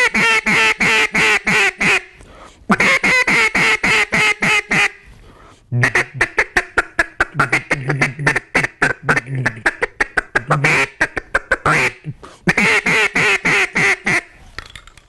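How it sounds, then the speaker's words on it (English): A Quackhead mallard duck call blown by hand gives out series of raspy quacks, from long drawn strings to quick choppy bursts, loud and close, with no talking. "This here is the quackhead mallard, one of my favorite calls."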